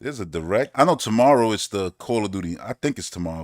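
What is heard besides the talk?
No everyday noise stands out behind the speech.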